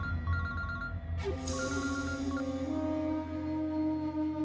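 A telephone ringtone plays in a tense indoor drama scene, repeating electronic ringing tones over low background music, with a sharp accent partway through, moderately loud and without speech.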